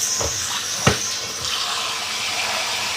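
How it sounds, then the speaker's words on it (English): Water runs steadily into a sink as a stainless steel bowl is rinsed, a continuous close hiss with a few faint knocks and clinks of the bowl. "give it a quick rinse"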